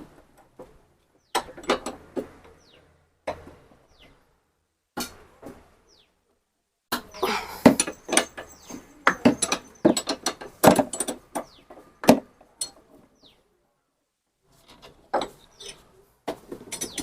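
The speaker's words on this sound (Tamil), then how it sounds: "போல்டு கழட்டியாச்சு." Bolt joining the fork and handlebar of a Honda Activa scooter being loosened and removed, heard as bursts of sharp ratcheting clicks and metallic taps separated by quiet pauses, with a busier cluster in the middle.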